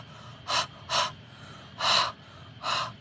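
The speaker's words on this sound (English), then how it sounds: "I'm going to huff on my stamp to moisten this." Four sharp, breathy huffs of breath, close and loud and evenly spaced, blown onto a rubber stamp to moisten it, with no talking.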